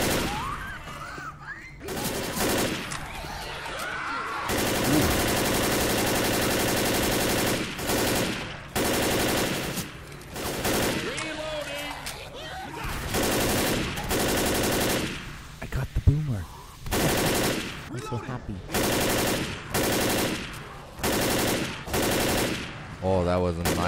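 Rapid automatic gunfire from the Left 4 Dead zombie game, loud bursts repeating through the clip with short gaps, some single heavy shots, and a player talking over parts of it.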